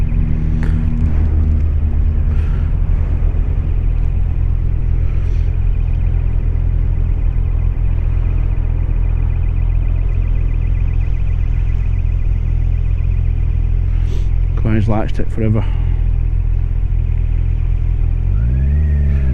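A 2021 Kawasaki Ninja 1000 SX idles and rolls at low revs, a deep continuous engine rumble close by, with a brief rising rev near the end and one short line of rider speech.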